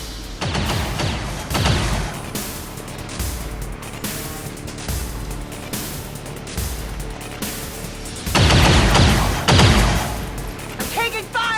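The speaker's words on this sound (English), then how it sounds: "I'm taking fire!" Gunfire in the XCOM 2 War of the Chosen video game during the Gatecrasher mission: repeated loud bursts of shots and heavy booms trade back and forth, with some of the heaviest volleys near the end.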